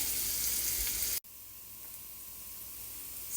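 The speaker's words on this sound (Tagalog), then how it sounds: "I-fry na natin yung garlic at saka luya and chili together." Garlic, ginger and chili frying in hot oil in a pan: a bright, continuous sizzle that cuts off abruptly, then a quieter, settled hiss resumes.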